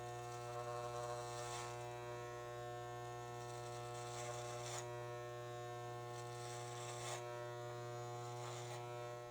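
Electric hair clippers fitted with a size 2 guard buzz steadily while trimming a mullet, a close, continuous hum with slight swells as the blade passes through hair.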